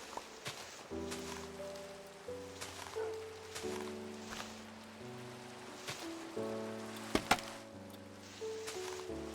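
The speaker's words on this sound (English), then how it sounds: "Oh, and here comes the rain." Rain falls steadily in the Minecraft video game, a soft, even patter spread across the whole stretch with a few sharper drops and taps, while sustained background music tones play underneath.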